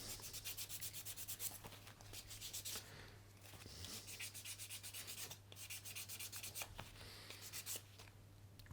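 Wooden chopsticks hand-sanded with 240 grit sandpaper, a quiet rapid back-and-forth scratching in steady strokes, pausing briefly now and then, alone with a low background hum.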